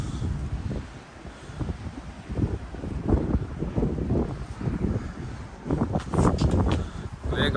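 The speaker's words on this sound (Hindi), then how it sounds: "यहाँ पे बहुत तेज़ हवा चल रही है" Strong wind buffets the microphone in irregular gusts, a rough low roar rising and falling, with faint rustling.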